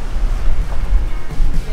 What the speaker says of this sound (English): A big one just splashed on the bow.